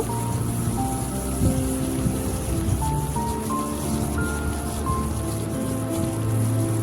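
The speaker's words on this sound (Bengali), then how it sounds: "টমেটোটা একটু ভেজে নেব" A tomato frying in oil with cardamom, cloves, cinnamon and whole cumin, giving a steady, even sizzle like light rain, close and continuous, with soft tonal music underneath.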